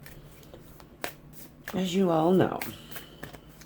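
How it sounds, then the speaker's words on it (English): A deck of tarot cards is shuffled in soft, scattered riffles and taps while someone speaks over the sound. "as I'm shuffling"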